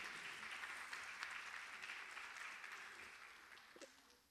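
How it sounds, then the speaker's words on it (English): After a Mohiniattam dance arangetram, an audience breaks into sustained clapping heard at a distance, fairly faint and gradually tapering off. "She truly deserves a big round of applause from all of you."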